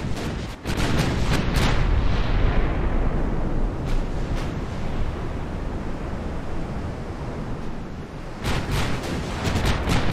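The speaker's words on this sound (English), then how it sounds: "13 inch guns, do your thing." Thirteen-inch naval guns firing in the Admiral Dreadnaughts video game: a loud blast opens a long booming roar that rolls on and fades a little, then a fresh burst of heavy reports comes near the end, with no voices.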